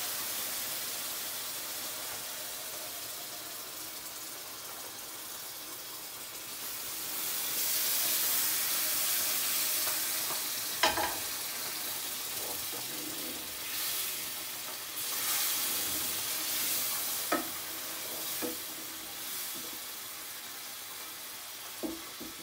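Semolina halva cooking in a pan gives a steady sizzling hiss that grows louder partway through, broken by scattered crackles and soft stirring knocks, with no talking.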